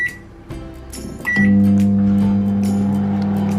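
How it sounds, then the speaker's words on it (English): A microwave oven softening about 75 grams of chocolate: a door or button click, then a steady close hum with a low electrical drone that holds evenly to the end. "now I'm just going to melt about 75 grams of chocolate in the microwave"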